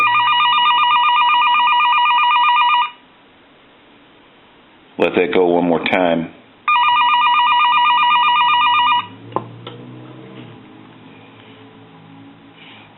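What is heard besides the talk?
bell ringing on a French-style desk telephone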